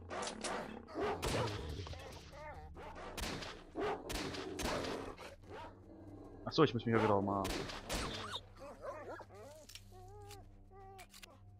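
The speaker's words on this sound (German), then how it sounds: "Wieso sind die Hunde nicht durch 1000 Kopfschüsse gestorben?" Dogs bark and gunshots crack in a game of Stalker: a loud, rapid burst of shots goes off, dogs yelp and snarl in between, and someone talks over parts of the fight.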